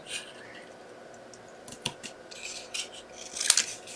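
Scissors snip through navy cardstock for a handmade card, a few sharp close cuts that build to a louder final snip.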